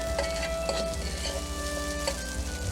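Mushrooms sizzle steadily in hot oil in a pan for a pasta dish with shrimp and spinach cream sauce, a continuous close frying hiss with occasional stirring scrapes and no talking.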